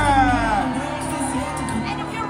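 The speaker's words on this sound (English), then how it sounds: "let me hear a loud pirate cheer!" A crowd cheers and whoops at a pirate night show aboard a Disney cruise ship, a sustained wash of shouting voices with children among them, loud and steady throughout.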